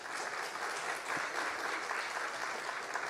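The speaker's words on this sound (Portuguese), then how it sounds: "Uma salva de palmas também." A crowd at a festival panel discussion on the environment gives a sustained round of applause, even and dense clapping with no pauses, heard from within the room.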